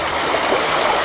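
A small woodland creek on a rainy-day trail flows steadily, its broad continuous rush and trickle close and even throughout, with no voices.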